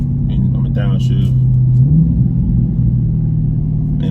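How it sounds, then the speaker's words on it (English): Stock exhaust on a 2020 Dodge Charger Scat Pack 392 during a downshift, a loud, low, steady rumble with a brief rise in pitch midway, while someone talks briefly over it at the start. "that's stock exhaust, and you can hear it."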